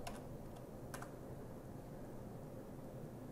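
Typing on a computer keyboard in a quiet room: a few faint, scattered keystrokes near the start, then only a soft steady background hiss.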